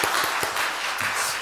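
A church congregation at a Sunday worship service applauds together, a dense, even wash of many hands clapping at moderate loudness, heard briefly with no speech over it.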